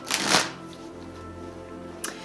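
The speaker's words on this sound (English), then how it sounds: "I find that this deck does not shuffle well, for one. It's so glossy." A glossy Dragon Oracle card deck is shuffled in two quick riffling bursts, a longer soft flutter followed by a brief snap, close and quiet.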